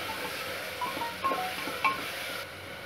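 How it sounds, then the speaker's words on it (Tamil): Two finely chopped tomatoes sauté in a hot pan, giving a steady close sizzle with a few soft stirring scrapes and light utensil clinks, and no voices. "தக்காளி ரெண்டு பொடி பண்ணது வதக்கலாம் பாருங்க"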